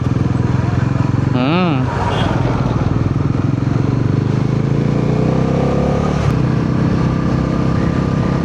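A motorcycle carrying a rider and passenger rides along a busy road among e-rickshaws and vans on a cold day, its engine droning steadily up close with passing traffic and a brief horn, while the rider talks over the noise.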